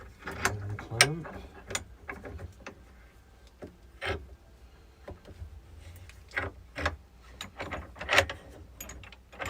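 Clamps being ratcheted and tightened on a glued-up epoxy river table, a series of separate creaking, clicking turns spread unevenly through the clip, fairly quiet and close.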